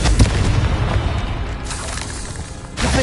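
Repeated Confringo explosion spells in the game Hogwarts Legacy: loud booming fire blasts with crackling bursts near the start and again near the end, one after another.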